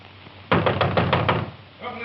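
A fist pounds on a door in a rapid series of about six loud, close knocks, followed by a brief voice.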